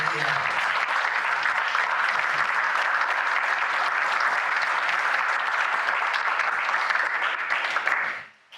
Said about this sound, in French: Madame Minas, on peut l'applaudir, c'est notre directrice de l'école.